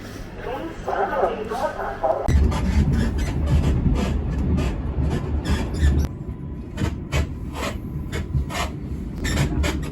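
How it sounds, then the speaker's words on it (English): Rattling, rasping noise of an old train on rails in Poland, with rhythmic clacks and squeaks over a steady low rumble, continuous and fairly loud throughout. "We're on an old school train today"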